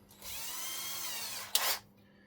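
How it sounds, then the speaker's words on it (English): Power drill boring holes in a Tamiya truck chassis, one sustained whirring run of about a second and a half ending in a brief louder grinding burst, close and alone. "use your fifth wheel plate to mark your hole, to drill your holes in your chassis."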